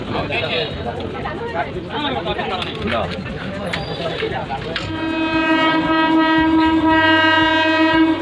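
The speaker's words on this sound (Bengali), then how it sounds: "এখন ট্রেন আসবে" A train rumbles past with a long, loud horn blast sustained near the end, while people chatter in the background.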